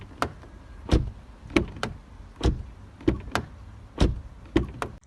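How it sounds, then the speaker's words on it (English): Car doors on a Kia K5 GT-Line, Chevrolet Malibu Premier or Hyundai Sonata opening and closing, a series of about ten sharp thuds and latch clicks in an uneven rhythm, close and fairly clear. "Doors open and close very nicely,"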